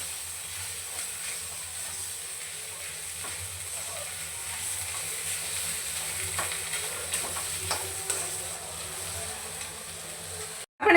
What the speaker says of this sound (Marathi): मीठ टाकून आपल्याला व्यवस्थित आता मिनिटभर आपल्याला हे सगळं काही मिक्स करून घ्यायचे आहे